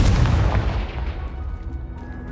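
A Confringo fire-blast spell explodes in Hogwarts Legacy, a loud booming burst at the start followed by a rumbling decay that fades over about two seconds, with faint crackles trailing after.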